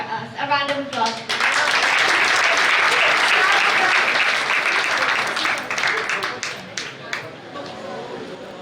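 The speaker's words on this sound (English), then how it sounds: "A round of applause." An audience breaks into sustained applause for a performer at a devotional Bhagavata Saptaham gathering in Mathura, with loud, dense clapping swelling after a brief spoken lead-in and slowly thinning toward the end.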